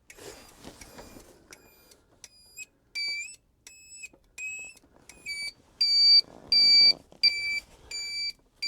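A homemade loud turn signal flasher alarm with its hole taped over beeps in sharp, evenly spaced electronic pulses, loud and close, with faint background rustling.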